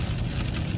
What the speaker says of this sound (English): is the rain loud? So I gotta really talk and shout right now because the rain is falling